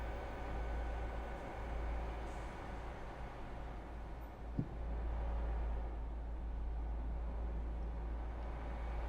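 A Class 805 diesel train starting up in the video game Train Sim World 6, a steady low engine rumble with broadband hiss that holds throughout and swells slightly midway, with one sharp click.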